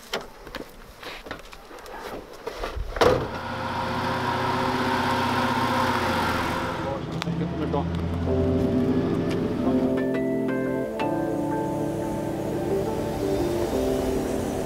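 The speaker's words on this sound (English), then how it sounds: "So we'll turn the vehicles around, get going, and continue on with the trip." 4x4 vehicles turning around on a bush trail, a few clunks and a door-like thump, then engines starting and idling with a steady low rumble that shifts in pitch as they move nearby.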